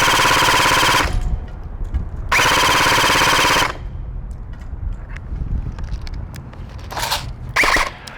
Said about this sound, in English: now we're going to go ahead and do full auto